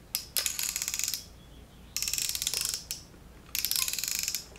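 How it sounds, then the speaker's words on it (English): Rapid mechanical ratcheting clicks from a watch winder in three bursts of about a second each, separated by short pauses, close and crisp with no voices. "It's a watch winder."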